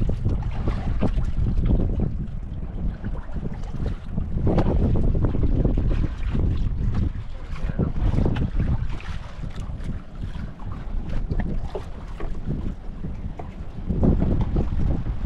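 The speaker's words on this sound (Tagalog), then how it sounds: "Lakas pa rin talaga ng hangin." Strong wind roars and buffets the microphone nonstop, loud and rumbling, with surging gusts and possible water splashing underneath.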